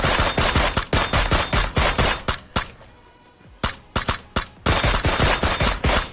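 Automatic gunfire in the video game PUBG, rapid loud bursts of shots repeating in quick rhythm, pausing briefly mid-way before resuming in more volleys.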